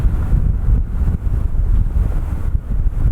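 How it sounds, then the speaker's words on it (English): Steady low rumbling buffeting of wind against a microphone, loud and continuous throughout with no voices. "it is a bit of a windy old day"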